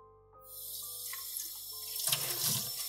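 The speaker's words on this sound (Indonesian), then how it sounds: "mencuci piring dengan suara air mengalir dan tentunya suara piring yang bergesekan" Running water from a tap while dishes are washed, a horror-story sound effect, rises from near silence into a steady splashing stream, with some brief clinks from the dishes.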